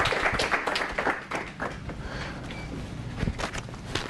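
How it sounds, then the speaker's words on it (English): A small audience at a commercial real estate panel applauds. The clapping is close and uneven, with scattered louder individual claps and some shuffling throughout. "So give him a round of applause, and Brian as well."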